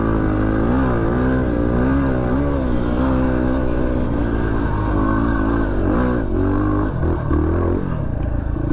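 An off-road vehicle's engine revs hard in third gear climbing a sand dune in the Simpson Desert, a loud continuous drone with rising and falling pitch and no speech over it.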